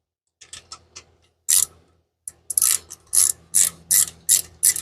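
A wrench ratchets in short clicking bursts as a bolt is snugged down on an alternator bracket of a 1983 Mustang GT big-block Foxbody, with quiet pauses between the close, sharp runs of clicks.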